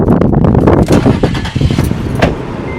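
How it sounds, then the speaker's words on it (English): A loud 4-liter V6 truck engine rumbles close by, revving with a deep, rough growl that surges and then settles into a steady idle. "we'll start it up. 4-liter V6."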